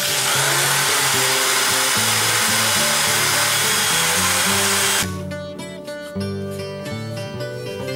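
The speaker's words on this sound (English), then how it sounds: "just put about 120 grit on there and sand it up" Whirring power-tool drone with abrasive grinding as 120-grit sandpaper sands a wooden vase, loud and continuous, shifting to a lighter rattling hum as the machine slows near the end.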